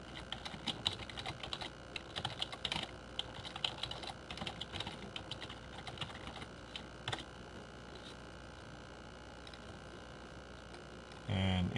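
Keystrokes on a computer keyboard clatter in quick, uneven bursts, moderately close and fairly quiet, with occasional heavier clicks over a steady background hum.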